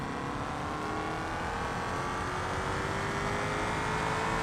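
A big, beefy race car in the BeamMP driving game at Suzuka holds a loud, continuous engine drone with a slowly rising pitch, close and alone without talk.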